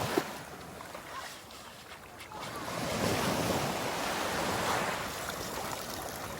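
Sea waves wash onto a beach where children are playing and collecting shellfish, a steady broadband surf roar that swells louder midway through, with some wind buffeting and no speech.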